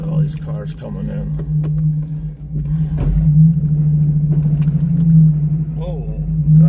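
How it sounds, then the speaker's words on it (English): Cars come in during snow removal work, a steady low engine rumble with a constant droning hum that swells slightly as they get closer, while a person talks over it. "Cars coming in."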